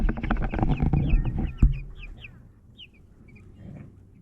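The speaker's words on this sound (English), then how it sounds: "fresh chicks and they are safe in this coop" Young chicks in a coop give soft clucks and high, short peeping chirps, with rustling and a sharp knock near the start, close by, then fading to scattered cheeps over low background noise.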